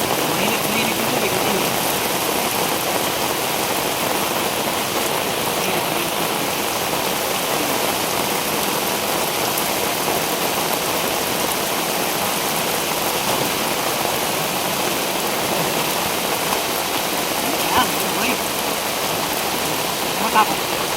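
Steady heavy rain falls over a village, a thick, unbroken roar of drops hitting surfaces, close and constant, with a faint engine hum and a couple of small knocks in the background.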